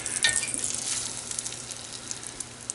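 Beef hind shanks brown over high heat in a hot pan, a close steady sizzle and crackle that flares at the start and then settles into a softer continuous fry.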